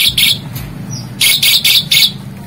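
A one-legged pet bird sings close by in loud, bright, high chirping bursts, several rapid phrases separated by short pauses.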